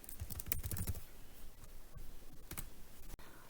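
A computer keyboard clicks in short, scattered bursts as a search term is entered, close and fairly quiet, with a few isolated sharper taps.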